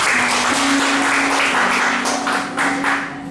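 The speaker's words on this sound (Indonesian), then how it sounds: "Tepuk tangan." An audience in a church gathering claps together in a loud, sustained burst of applause that swells and dips slightly, with a steady tone humming beneath it.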